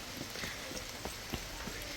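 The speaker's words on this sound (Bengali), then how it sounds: "বৃষ্টি পড়তেছে" Rain falls steadily outdoors, a faint, continuous patter with a few brief louder drops and no talking.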